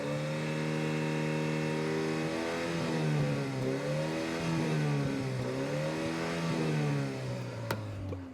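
The exhaust of a Mini Convertible revs from a steady idle into several rising and falling blips, a throaty mid-pitched note heard close up with nobody speaking.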